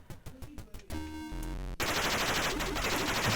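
Gunfire in the Atari ST game Resolution 101: a quick burst of sharp electronic shots, then a sustained buzzing tone and a loud continuous blast of noise.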